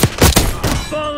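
Frag grenade blast in Black Ops 6, a series of sharp booming thuds over about half a second followed by a ringing, fading tail, loud and close.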